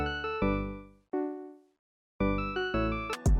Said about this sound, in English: So I found this patch called ESS 170 Electric Piano 2, and it sounds quite good on its own.